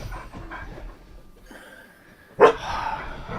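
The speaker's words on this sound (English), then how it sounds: "God, bloody dog." A dog gives a single sharp, loud bark close by after a stretch of quieter panting and shuffling, followed by a lingering noisy tail.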